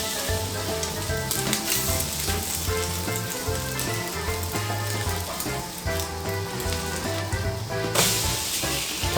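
Monte Cristo sandwiches sizzling in a hot pan after being flipped, a loud, steady crackle of frying close up with faint background music.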